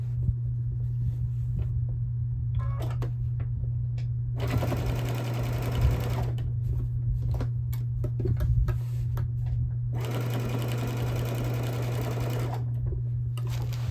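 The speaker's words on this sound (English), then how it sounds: "I'm going to continue a straight stitch to line up right there on the edge of my binding" A sewing machine runs straight stitching along quilt binding in two long steady bursts of rapid whirring, separated by short pauses with light clicks and handling sounds over a constant low hum.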